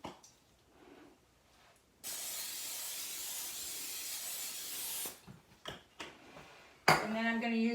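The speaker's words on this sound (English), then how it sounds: "We're going to spray it with the Pam." Can of Pam cooking spray misting onto a cookie sheet: one steady loud hiss of about three seconds, close up, followed by light handling taps and a voice talking at the end.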